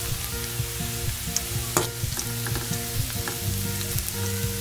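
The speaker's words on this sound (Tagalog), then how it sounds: "Laging ginigisa yung bawang na uuna kasi mabango siya lalo na pag nag-golden brown." Garlic cloves sautéing in a pan for an okra omelette, with a steady close sizzle and crackle and a few sharp spatula scrapes and taps, no voices.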